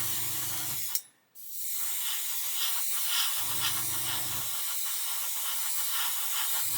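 A spray gun with a 0.5 nozzle lays wet coats of paint on a scale model, giving a steady hiss broken by a brief pause, with a low compressor hum pulsing on and off beneath it.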